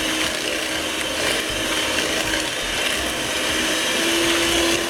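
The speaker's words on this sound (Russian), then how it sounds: "И начинаем взбивать миксером." An electric mixer beats sugar, butter and vanillin in a bowl, a loud, steady whirring buzz with a faint rattling grind, running continuously and close.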